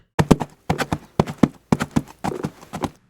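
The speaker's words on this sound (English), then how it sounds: "The horse sounds like this." Horse hooves clip-clopping on a farm in a steady, close rhythm of paired strikes, about six bursts over a few seconds, loud and clear with no talk; any neigh is not distinct.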